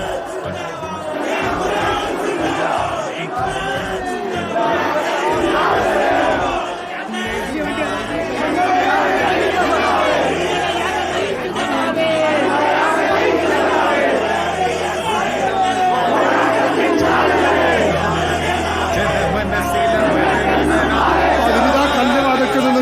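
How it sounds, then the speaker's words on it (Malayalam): A dense crowd at a night-time funeral procession for V S Achuthanandan at Chathannoor shouts slogans in loud, continuous chants, with overlapping voices forming a steady roar of massed shouting throughout. "വലിയ മുദ്രാവാക്യ വിളികളോടെ ഇതാ പുരുഷാരം അവിടെ നിറഞ്ഞു നിൽക്കുകയാണ്"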